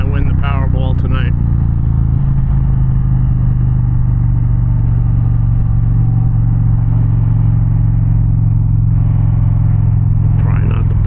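An Indian Challenger motorcycle's exhaust gives a deep, steady, loud rumble, close by, at a roadside market in New Jersey, with brief talk at the start and end.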